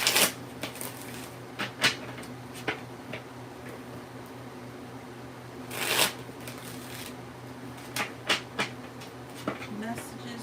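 Tarot cards are shuffled by hand during a weekly forecast reading, giving sharp riffling bursts and soft slaps at irregular intervals, close and clear over a quiet room hum with some low talking.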